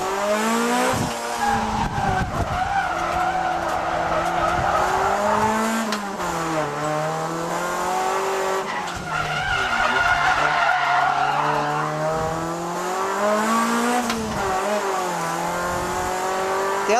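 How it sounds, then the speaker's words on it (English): A Honda Prelude drifts downhill on a mountain touge road under heavy handbrake use, with long, loud tire squeals and skids that rise and fall over a droning, revving engine for the whole stretch, no talk. "Let's drift all the way down this section."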